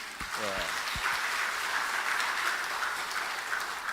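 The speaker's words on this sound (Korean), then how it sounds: "우리 정말 우리 청년교회를 위해서 뜨거운 박수를 부탁드리겠습니다" A church congregation at a Sunday evening service applauds the youth church with a dense, sustained wash of clapping that fills the room after a few spoken words.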